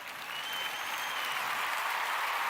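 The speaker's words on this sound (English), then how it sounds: "I'll take that applause as being for me" Sustained audience applause at a church gathering, a steady wash of many hands clapping that swells slightly and holds, heard from some distance and fairly soft.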